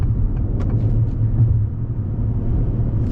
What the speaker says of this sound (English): very little wind noise, some tire noise, but overall a very quiet cabin